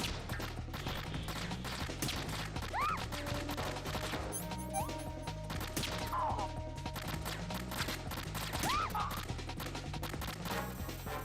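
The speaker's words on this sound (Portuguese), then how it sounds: "tem mais um imbecil atirando, mano." Gunfire in Metal Gear Solid 2: Substance on Xbox, a mix of scattered shots and mechanical clatter running continuously through a busy game soundscape, with tonal game effects sweeping over it and no talk.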